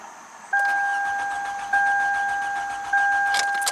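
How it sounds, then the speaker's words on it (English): A 2009 Toyota Camry engine cranks over with all ignition coils unplugged, so it turns without firing; a steady, close starter drone carries a whining tone that cuts and restarts briefly twice. "with all of them unplugged, let's just crank it over"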